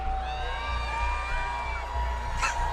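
Crowd cheering in the Dickies Arena during the FNCS Global Championship 2024 Fortnite event, scattered whoops and shouts rising and falling at a modest level, heard at a distance.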